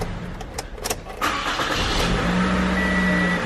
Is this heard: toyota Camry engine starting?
yes